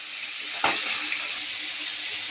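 Boiled chickpeas and papaya drop into a hot pan for a papaya curry, giving one sharp splash and then a steady, close, bright sizzle that hisses on with no voices.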